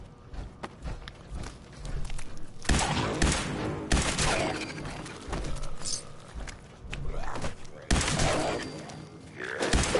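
Sniper-barrel rifle shots ring out in Fallout 4, loud sharp reports at irregular intervals mixed with game ambience, footsteps and scattered movement noise.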